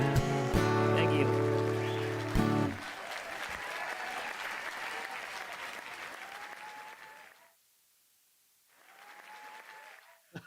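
Audience at a Red Barn Music Series concert breaks into loud, sustained clapping as the last notes of a live song fade. The applause dips to near silence briefly, then resumes more softly.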